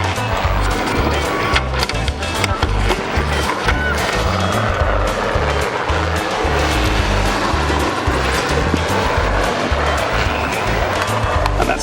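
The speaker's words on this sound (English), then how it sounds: "The unique thing about the Autogyro is it's cleared to fly at just 30 feet." An autogyro flies low, around 30 feet, at the Manchester airshow, its engine and rotors making a loud, steady, rough drone with a pulsing low throb that stays up close throughout.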